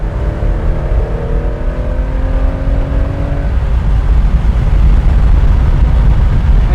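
A 1975 Porsche 911 2.7 Carrera MFI pulls hard in third gear, its flat-six climbing in pitch for a few seconds before settling into a loud, dense, close roar that fills the rest.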